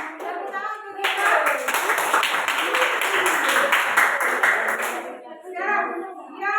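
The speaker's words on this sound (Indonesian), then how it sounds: "tepuk tangan untuk kita" Classroom applause from a group of students, a burst of steady clapping lasting about four seconds with scattered young voices talking before and after.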